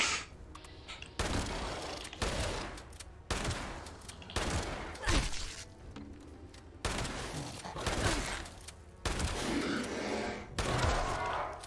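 Repeated loud bursts of automatic weapon fire in Fallout 76, several separate volleys over a few seconds with short gaps between them, close and dominant.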